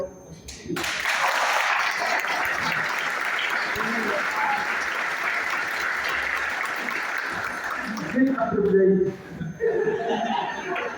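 A hotel conference audience at a direct selling event claps together on request, a loud sustained burst of applause for about seven seconds, then laughter, chuckles and talk take over as the clapping fades.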